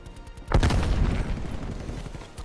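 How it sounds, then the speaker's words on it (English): A frag grenade detonates in Call of Duty: Black Ops Cold War, one sudden loud boom after a brief quiet moment, followed by a rumbling, crackling tail that slowly fades. "Sending frag grenade."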